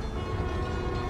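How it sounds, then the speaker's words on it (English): A New York subway train in the video game Spider-Man: Miles Morales rumbles past in a dense, roaring wash of rail noise, loud and continuous over one brief moment. "My trusty New York subway."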